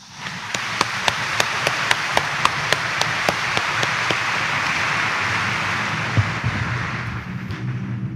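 A congregation at Quiapo Church applauds loudly during a First Friday morning Mass, a dense wash of crowd clapping with a sharp, steady rhythmic clap standing out on top, fading slightly near the end.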